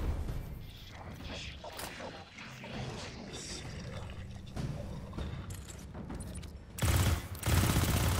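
Rapid submachine gun fire from the shooter game Destiny 2, a dense rattling stream under mixed game effects, swelling into a louder, harsher burst near the end.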